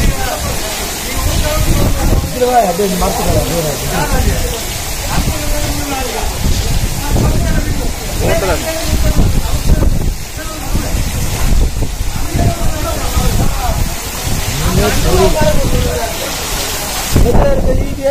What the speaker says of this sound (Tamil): சரியான காத்து மழை